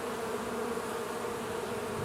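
Honey bees hum steadily inside a hive box in warm weather, a dense, continuous buzz with no pauses and no voices.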